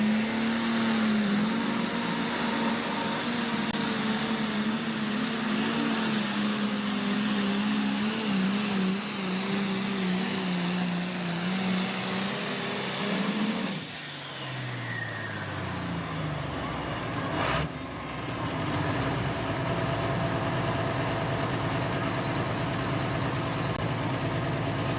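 A turbocharged truck engine at a truck pull roars loudly and steadily at high revs with a turbo whine, then drops off as the revs fall, and a sharp transient follows before a lower running drone.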